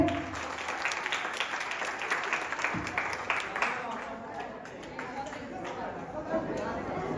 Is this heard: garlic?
no